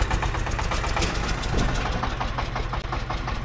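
A tractor engine runs near a riverside campsite by a glacier in Tibet, a loud, close, steady knocking diesel idle with a rapid rhythmic chug and no talk.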